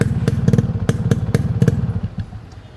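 A Yamaha RX 100 motorcycle engine runs close by with a rough, pulsing two-stroke idle, punctuated by sharp revving blips and crackles before settling lower toward the end.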